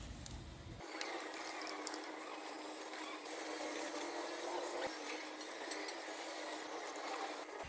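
8 mm bolts being loosened on a Bajaj Discover 125 engine with a ratchet, a faint, steady clicking of the pawl that runs continuously under a hissy background, with no talk.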